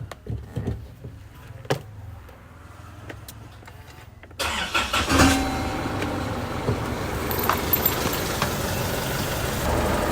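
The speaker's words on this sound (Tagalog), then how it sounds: "Tapos, papainitin ko yung makina." A car engine turns over and catches at a home, then settles into a steady, close idle as it warms up, with no talking.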